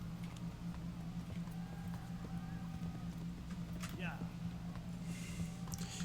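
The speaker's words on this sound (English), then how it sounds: "Begin cantering and don't steer him." A horse canters in a Slavic knight simulator game, its hoofbeats clip-clopping in a quick steady rhythm under constant low hum, with someone talking over it.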